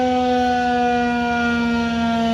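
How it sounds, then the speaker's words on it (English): A civil defense warning siren, one of those installed for tornado alerts in Oviedo outside Orlando, blares loud and steady as a continuous tone throughout, with no voices. "they decided to install sirens on their own"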